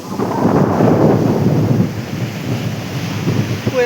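Strong wind roars against the microphone as water surges in, a loud continuous rumbling rush that swells and eases without a break.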